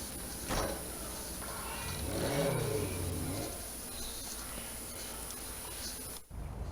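A duplicated car in a video game drives out of a garage, a mid-pitched engine revving up and settling into a steady hum, moderately close, with no talk.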